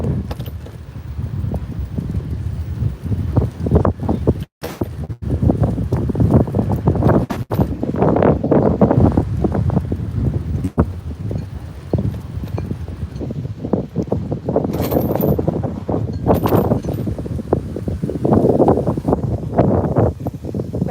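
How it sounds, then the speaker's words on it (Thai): Strong wind gusts outdoors in an autumn park where people stroll, a steady loud rumbling buffeting of the microphone lasting throughout. "ตรงนี้ยิ่งลมแรงค่ะ"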